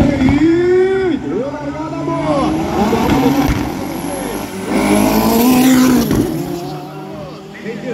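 Race cars including a Maserati and a Mercedes-Benz roar around the Londrina racetrack, engines rising and falling in long sustained passes with loud revving sweeps throughout.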